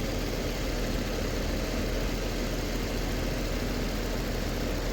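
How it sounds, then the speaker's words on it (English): An Infiniti G37 idles with its failing A/C compressor clutch cycling, giving a steady, loud, close engine hum and vibration with no clear distinct clicks. "I think it's just a failing compressor"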